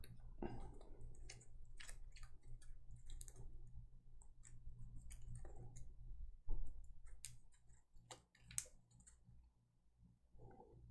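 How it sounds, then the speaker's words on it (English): Game cards from a Gloomhaven Jaws of the Lion monster deck are shuffled by hand in a quiet room, giving soft repeated riffling clicks and flicks in short bursts with brief pauses between. "Get this shuffled up."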